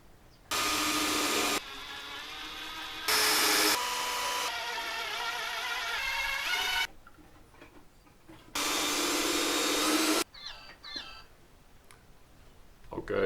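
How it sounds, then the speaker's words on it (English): A power drill drives screws into a wooden serving tray in several loud bursts of a second or two each, separated by quieter handling noises and knocks on wood. "drilling the holes and putting in some"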